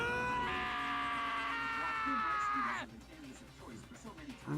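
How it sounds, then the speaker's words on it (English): A loud, sustained scream in the video game Danganronpa: Trigger Happy Havoc, a bright high-pitched cry lasting a couple of seconds and cutting off sharply, followed by quieter clattering sounds. "That was a pretty good scream."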